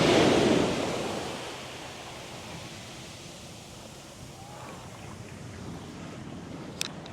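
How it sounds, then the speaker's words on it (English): Ocean waves break on Karon Beach in Phuket, Thailand. One loud wash surges at the start and then settles into a steady roar of surf with wind. "Look at this wave. Oh, here it comes"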